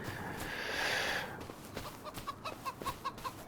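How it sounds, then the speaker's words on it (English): Chickens in Farming Simulator 25 cluck in a series of short, evenly spaced calls after a brief burst of brighter noise, moderately loud with no talking over them. "Now look at them chickens, they're nice and happy."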